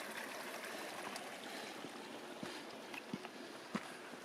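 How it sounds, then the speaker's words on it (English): A mountain stream beside the Mt. Whitney trail flows with a soft continuous rushing hiss, faint and steady, broken by a few light footsteps or knocks. "Hear that water?"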